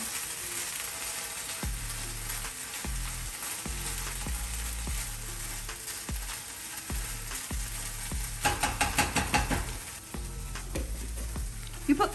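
Bacon frying in a pan with sugar-free syrup and a little coffee sizzles steadily up close, with repeated scraping and tapping from stirring and a louder crackling burst toward the end.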